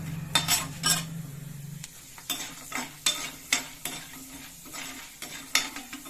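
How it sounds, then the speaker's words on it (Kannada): Peanuts and chana dal frying in a pan, stirred with a utensil that scrapes and clinks against the metal in a steady rhythm of sharp strokes over a soft sizzle, close and fairly loud. "ಕಡಲೆಬೇಳೆ ಹಾಕೊಂಡ್ಬಿಡ್ತೀನಿ ಫ್ರೈ ಮಾಡ್ತೀವಿ"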